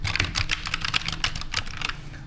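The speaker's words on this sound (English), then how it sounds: "Let me first make you hear the click of the keys." Keys clack rapidly on a Redragon Fizz K617 magnetic gaming keyboard, a close, crisp burst of uneven keystrokes with no voice over them.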